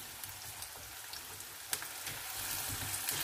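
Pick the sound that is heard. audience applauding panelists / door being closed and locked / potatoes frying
potatoes frying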